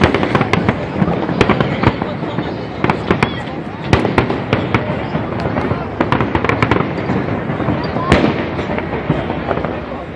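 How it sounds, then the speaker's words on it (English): Fourth of July fireworks in Washington, DC pop and boom continuously, sharp bangs scattered over a dense rumbling roar that echoes off buildings, with people talking underneath. "The rumbles are echoing."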